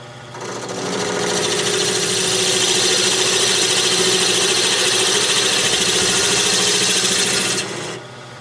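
Wooden table part for a Queen Anne side table being turned on a lathe while the bottom is rounded off, a loud steady whirring hum with continuous cutting hiss that rises, holds for several seconds, then stops.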